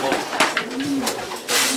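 Racing pigeons coo at the loft just after landing from a race: soft, rolling coos close by, over a busy background of rustling and wing noise across less than two seconds.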